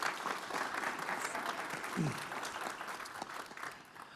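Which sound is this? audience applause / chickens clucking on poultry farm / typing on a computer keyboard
audience applause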